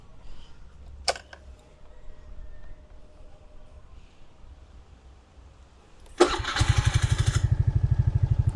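A GY6 scooter engine starts after a stretch of quiet. It catches with a loud crank and settles into a fast, steady putter close by, and no one talks over it.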